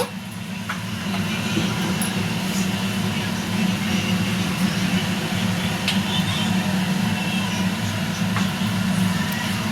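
A kitchen chimney exhaust hood running, a loud, steady, close whooshing drone with a low rumbling hum underneath that barely changes from start to finish.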